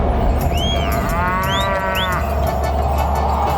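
Loud cartoon buffalo moos, two or three drawn-out calls over a steady low rumble of background music in a Hindi animated comedy.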